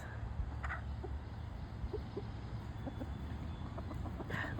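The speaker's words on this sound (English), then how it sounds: "That's the Easter egg rooster there." Chickens and a rooster cluck softly in a backyard pen, scattered short clucks and a couple of brief squawks against steady low background noise.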